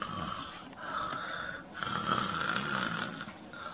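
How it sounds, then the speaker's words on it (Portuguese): A person snoring loudly in steady, rhythmic cycles, each rasping inhale building and fading, close and alone with no talk. "Ronca mais do que um boi"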